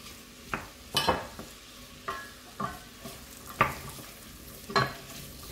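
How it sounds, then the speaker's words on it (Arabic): Potatoes and onion fry in butter and oil while a spoon stirs them, with rhythmic scraping strokes every half second or so over a soft continuous sizzle, close and clear. "نحركهم مزيان يتلبسوا بهاد الزبيده مع الزيت"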